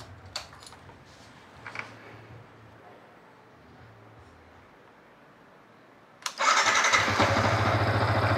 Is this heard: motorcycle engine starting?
yes